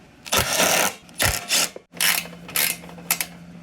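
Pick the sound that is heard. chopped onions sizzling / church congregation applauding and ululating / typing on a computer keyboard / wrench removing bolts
wrench removing bolts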